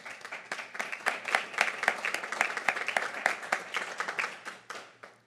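An audience at a school board meeting claps for several seconds, many hands in a steady moderate-level patter that thins out toward the end.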